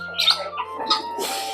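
A small bird gives a few brief, close chirps and squeaks in quick, irregular succession outdoors at a safari park, with light background hum.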